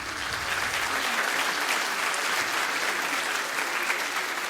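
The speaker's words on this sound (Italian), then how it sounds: "Sebastiano è qua, un bel applauso forte." A concert audience at a solidarity singing event in Tonara, Sardinia gives a dense, even burst of applause that holds steady the whole time, with no speech on top.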